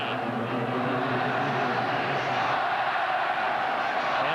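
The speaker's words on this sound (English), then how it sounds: "And the crowd now back into it" A stadium crowd at an American football game roars in a continuous, broad wash of cheering that holds steady throughout, heard at a distance without clear individual voices.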